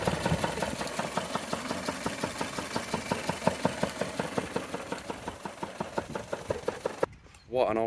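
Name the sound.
old Volvo engine idling on one cylinder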